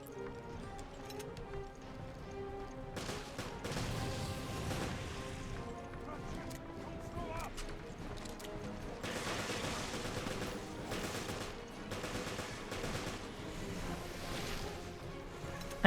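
Gunfire in the survival horror game Resident Evil: Revelations, a steady run of muffled shots with dense clatter sitting fairly low in the mix, continuous for the whole stretch without talk.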